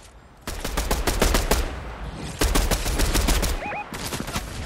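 Bombs exploding in the Fortnite video game, two bursts of rapid sharp blasts in quick succession, loud and close, with brief gaps between them and no talk.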